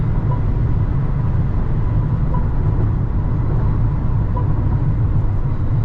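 A Mercedes-Benz GLA200 cruises on the highway at 150 km/h around 2500 RPM, with a steady, low cabin drone of road and engine noise, even and unbroken throughout.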